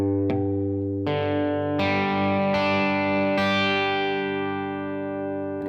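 Electric guitar with effects and distortion, strings plucked one at a time in a chord shape with one string muted, five separate ringing notes that sustain and overlap, fairly quiet and with no talking.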